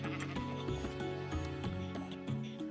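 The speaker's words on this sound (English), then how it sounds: "Hello, sheep." Sheep in the Minecraft video game bleat several times in a row, loud, close, wavering baa calls repeating at a steady pace over a quiet game background.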